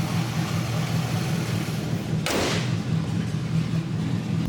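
A 1977 Pontiac Grand Safari station wagon idles steadily at moderate volume, long abandoned and just revived, with one sharp thump or knock breaking in about halfway through.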